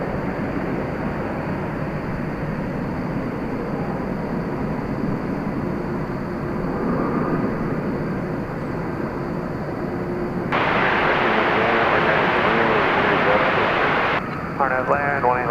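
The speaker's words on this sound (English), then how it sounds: "So there goes the Frontier flight 3885, destination Las Vegas." A Frontier airliner takes off at DFW Airport, its jet roar building steadily and swelling louder near the end, with someone talking over it.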